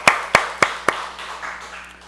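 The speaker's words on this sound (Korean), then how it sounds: "우리 박수로 한번 축하하도록 하겠습니다." Four sharp, evenly spaced claps ring out in a church, each with a short echo, followed by softer scattered clapping that fades away.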